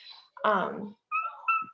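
A cat meows loudly and close up, a drawn-out harmonic cry, followed by a few thinner, higher-pitched squeaky calls.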